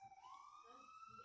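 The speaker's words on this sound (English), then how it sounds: "sorry for the siren noises outside" Wailing siren from an emergency vehicle passing outside, a steady rising tone that holds loud and close throughout the short stretch, with faint room noise underneath.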